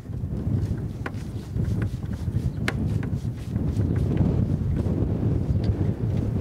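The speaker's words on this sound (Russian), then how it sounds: "Вы чувствуете, да, как ветер дует?" Wind gusts hard against the microphone outdoors at a rural house, a continuous loud buffeting roar with scattered faint clicks and knocks underneath.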